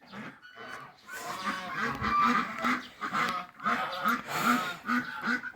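Farm geese honk and cackle in repeated bursts close by, a series of loud nasal calls with short pauses between them.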